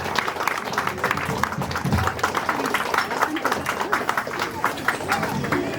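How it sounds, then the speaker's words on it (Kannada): An audience claps steadily at a Kannada Rajyotsava award ceremony, a sustained dense patter of applause from a hall crowd filling the whole stretch, with a voice talking underneath. "ಚಪ್ಪಾಳೆ ದಯವಿಟ್ಟು ಎಲ್ಲರೂ ಹೊಡಿಬೇಕು ಅಂತ ಕೇಳ್ಕೊಳ್ತೇನೆ"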